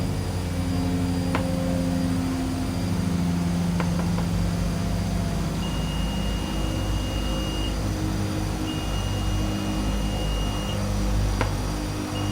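Twin Otter turboprop engines idling in Microsoft Flight Simulator, a steady low droning hum with a faint high whine, joined by a few brief electronic beeps.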